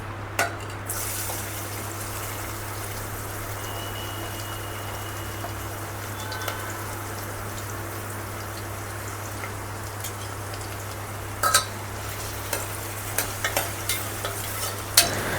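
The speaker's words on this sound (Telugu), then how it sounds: "ఆనియన్స్ ఫ్రై అవ్వడానికి ఇంకెలా టైం పడుతుంది కదా" Onions frying in oil with biryani spices give a steady close sizzle from start to finish, with a constant low hum underneath and a few sharp clinks of a utensil on the pan near the end.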